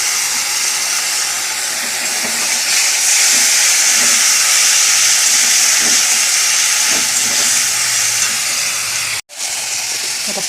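Water poured into a hot pan of small-fish curry hisses and sizzles loudly and steadily, a dense continuous frying hiss close by that cuts off abruptly near the end.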